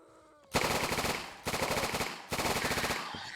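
Automatic gunfire from the Roblox game Those who Remain, heard as three loud rapid bursts of rattling shots separated by short pauses, with no talking.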